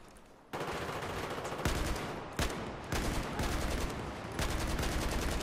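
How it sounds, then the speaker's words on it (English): Sustained automatic gunfire in Battlefield 4, dense rapid bursts from an AK-12-style rifle firing in long continuous strings with brief pauses, loud and close without speech. "What, a teammate shooting at me?"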